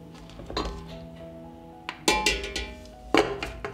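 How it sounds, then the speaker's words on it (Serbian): Glass jars clink and knock as they are set down one by one into a metal pressure cooker, with three sharp ringing impacts and fading resonant tones between. "Tegle stavljam u ekspres lonac."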